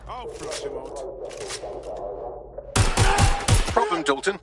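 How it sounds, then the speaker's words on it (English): Video-game gunfire in Watch Dogs: Legion: loud, sharp shot bursts in quick succession break out in the second half, over a busy game soundscape with shouted voices earlier on. "Watch out! Shots fired!"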